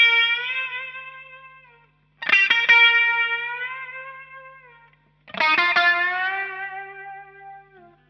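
An electric guitar plays a solo, with three sustained, bent notes ringing out under heavy effects, echo and chorus. Each note is picked, swells with wide vibrato and then fades, with no voices.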